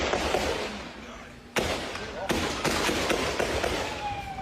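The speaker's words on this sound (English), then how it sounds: "Video also showing officers with weapons drawn and people running for cover amidst a hail of gunfire." Gunfire during a police shootout at a warehouse in southwest Miami: several sharp, irregular bangs ring out after a short stretch of noisy commotion, with voices mixed in.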